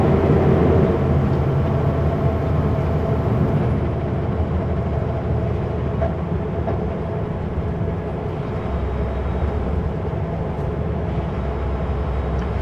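Semi truck on the descent into Princeton, its engine and drivetrain a loud, continuous low rumble with road noise, pitch shifting slightly as gears are grabbed partway through.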